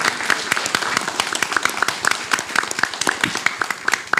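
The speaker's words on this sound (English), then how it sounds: "let's have a round of applause for our three speakers here" An audience at an immigrant support event claps for three speakers, a moderately loud patter of many hands with distinct, closely spaced claps and a little voice mixed in.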